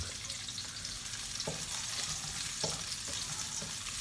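Adobo fries in a pan while being stirred and broken apart, a continuous crackling sizzle with occasional soft spatula knocks; close but fairly faint, with no talking.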